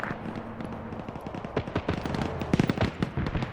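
Mi-24 helicopter gunfire in Arma 3, rapid bursts of heavy automatic fire with sharp cracks that grow denser and louder toward the end, over a low rumbling background.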